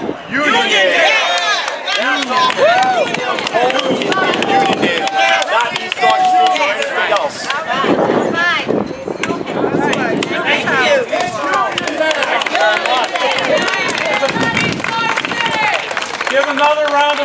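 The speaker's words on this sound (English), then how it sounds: "Another round of applause to you" Sustained applause from a crowd at a rally for Uniondale in Mineola, with dense clapping and cheering that runs throughout, loud and close, with voices mixed in.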